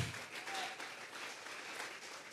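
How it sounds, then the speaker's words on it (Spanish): Congregation at a Sunday church service clapping as an offering of palms, a faint, steady wash of many hands heard from a distance. "Vamos a regalarle ofrenda de palmas al Dios de la gloria."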